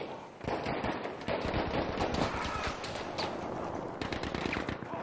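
Gunfire in the Battlefield V battle rattles through near-constant rapid shots and bursts with a few sharper cracks, dense and fairly loud throughout.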